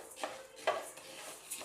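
Coriander seeds dry-roasting in a pan: faint scraping and rustling as the seeds are stirred, with two or three short, soft stirring strokes over a quiet background and no talking.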